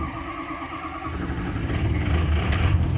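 Diesel 6.0 Power Stroke V8 in a 2006 Ford F250 Super Duty with a hard-start problem cranking and catching, a low rumble that swells into a steady, louder idle over a few seconds, close by with no voices.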